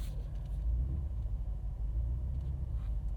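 A 2024 BMW X6M Competition reversing slowly into a parking spot, a low, steady engine rumble close by with no other sounds.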